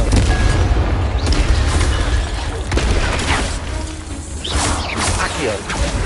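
Confringo spell blast in Hogwarts Legacy, a loud rumbling boom with crashing, shattering debris filling the whole stretch, dense and close with a voice briefly heard amid the noise.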